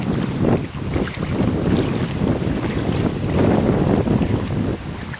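Hurricane Sandy's tidal surge, about five to six feet high, presses against a seawall at Faber Cove in Ft. Pierce: loud continuous rushing water and churning waves under heavy buffeting wind noise on the microphone.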